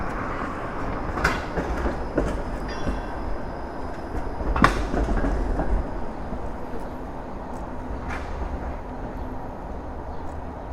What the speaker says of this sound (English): There's a training TTC streetcar.